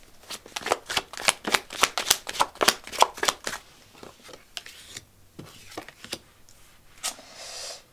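Playing cards are shuffled nearby in a quick run of rhythmic riffles, then slow to a few scattered flicks and slides.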